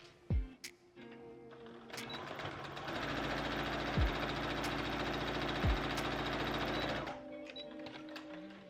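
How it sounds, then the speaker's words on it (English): A sewing machine runs a steady, rapid stitching rattle for several seconds along a bag strap seam, starting and stopping with a few clicks and handling thumps around it, no talking. "put them pretty side to pretty side and sew down this seam here"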